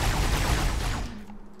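A dense, loud volley of gunfire in the video game Halo lasts about a second, then quickly fades into quieter game noise.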